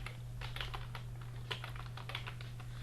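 Someone types PHP code on a computer keyboard: quick, uneven clusters of soft keystrokes over a low steady hum.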